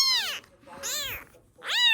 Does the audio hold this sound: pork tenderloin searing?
no